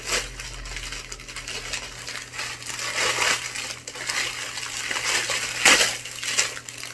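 A plastic packaging bag is opened and handled up close, giving a continuous dense crinkling and crackling with a brief louder rustle near the end.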